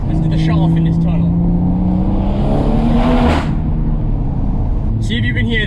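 BMW B58 engine of about 450 horsepower revving inside a tunnel, a loud rising roar that drops off into crackling, popping burbles on lift-off, booming with tunnel echo.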